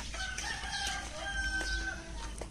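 Chickens cluck and crow in short tonal calls across a noisy farmyard, with a steady low rumble underneath.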